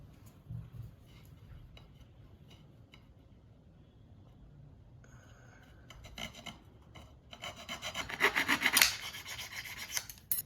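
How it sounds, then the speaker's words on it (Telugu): A curtain rod being cut into two pieces with a saw, steady rasping strokes building louder and faster toward the end, close by with no talk. "ఎక్కడైతే కట్ చేయాలో దాని ప్రకారం దీన్ని 2 పీసెస్గా కట్ చేసుకుందాం"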